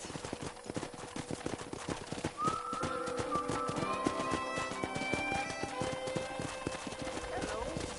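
Video game sounds: steady clip-clop of horse hooves walking at an even rhythm, with a horse whinnying partway through and voices talking over the sounds.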